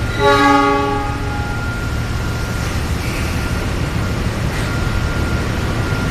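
A train sounds a loud, sustained horn blast close by, then keeps rumbling past with steady low-pitched rail noise and a faint later tone.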